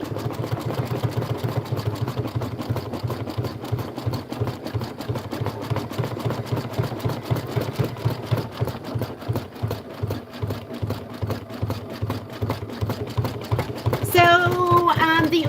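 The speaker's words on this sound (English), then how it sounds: "this is going to be 4 minutes of stitching" An embroidery machine stitches a Kimberbell outer petal fill in regular thread, its needle hammering in a fast, even, close rhythm for the whole stretch, with a voice chiming in near the end.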